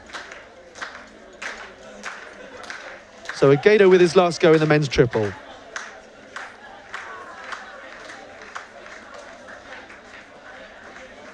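Rhythmic handclaps from fellow competitors ring out steadily as a triple jumper at an outdoor university athletics championship lines up his final attempt, heard under a commentator's talk, with a short loud crowd cheer in the middle.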